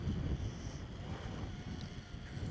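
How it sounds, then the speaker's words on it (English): Strong wind buffets a wild camp beside a mountain tarn, a loud, continuous rumbling roar of gusts battering the microphone with no letup. "Trying to shelter the microphone from the wind"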